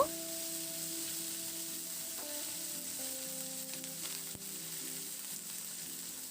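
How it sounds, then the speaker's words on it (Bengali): Chopped onion and nigella seeds fry in hot oil for a fish curry, giving a steady, close sizzle that runs throughout with a few faint stirring clicks and no talking. "এবার পেঁয়াজটা দিয়ে নাড়াচাড়া করে পেঁয়াজটাকে হালকা করে একটু ভেজে নেব"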